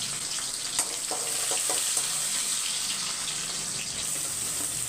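Mustard seeds splutter in frying oil with a steady hiss and scattered faint pops, close and quiet, with no one talking.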